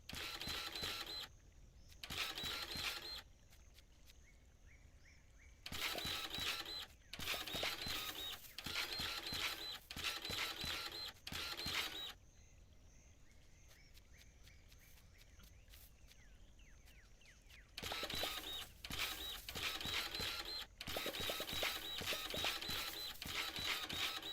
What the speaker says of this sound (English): The sound of this, the rhythmic sort of sounds of the dirt printer will start to make me really sleepy after a while